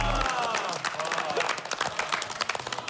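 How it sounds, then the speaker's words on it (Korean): A television studio audience on a Korean variety show bursts into applause, many hands clapping briskly and densely for a few seconds, loud and close, with some crowd noise mixed in. "다 같이 박수 한번 주세요."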